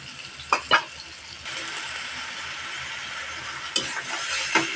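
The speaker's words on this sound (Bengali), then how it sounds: "এখন পেঁয়াজটা ভালোভাবে ভাজা রাখ পর্যন্ত ওয়েট করবো, একটা কালার আসা রাখ পর্যন্ত।" Onions frying in a pan for a stinging catfish curry, a continuous close sizzle that swells midway, punctuated by a few brief stirring scrapes.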